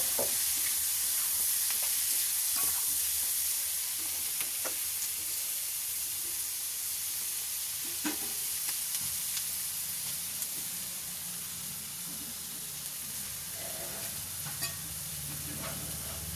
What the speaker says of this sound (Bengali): পেঁয়াজটা একটু লাল করে নিচ্ছি।